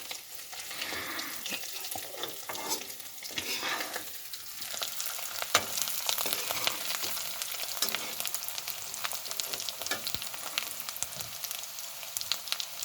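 Potatoes frying in a home-kitchen pan give off a steady, close sizzle with crackling and occasional stirring scrapes, running continuously for about thirteen seconds with no talk.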